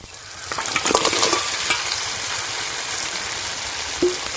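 Fried crabs tossed into a sizzling masala for a crab curry, loud continuous frying hiss with spoon stirring and scraping close up.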